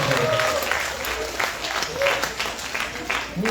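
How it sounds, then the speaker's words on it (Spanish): Audience applause for a speaker at a Bolivian legal website launch, a continuous patter of clapping at moderate loudness with some voices mixed in. "un fuerte aplauso al doctor Oscar Barrientos"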